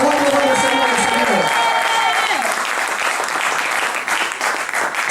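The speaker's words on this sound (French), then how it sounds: "Est-ce que nous acclamons très fort?" A congregation at a French-language church service cheers and applauds loudly, a steady roar of clapping and crowd noise throughout, with a voice calling out over it at the start.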